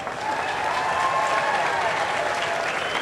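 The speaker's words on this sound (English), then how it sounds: "One more round of applause for our court." Sustained applause from a crowd at a Queen of Candles pageant event on July 4th, steady and fairly loud throughout after a brief rise at the start.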